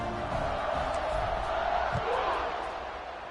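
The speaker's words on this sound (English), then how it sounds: "this crowd is feeling themselves after that last drive" At an Illinois vs Penn State college football game, a stadium crowd keeps up a broad, steady roar around kickoff, heard from a distance at moderate loudness and fading slightly at the end.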